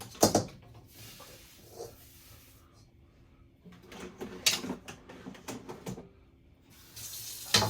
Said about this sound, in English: Rinse some of the egg off.